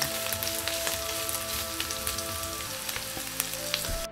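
Chicken pieces sizzling in hot oil in a pan while cooking homemade lomi, a steady close crackle with scattered pops and no voices.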